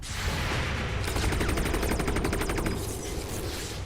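Bursts of rapid automatic gunfire from a turn-based alien-combat video game battle, a dense rattling volley in the middle with steady loud shooting throughout, no talking.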